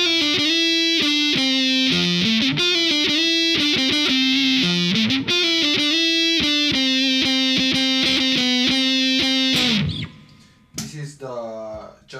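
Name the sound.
CIJ Fender Jaguar electric guitar, lead circuit with cut on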